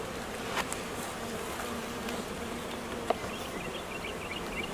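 Honeybees buzzing around open hive frames, a steady close swarm drone with individual bees passing near, a couple of faint clicks, no talk.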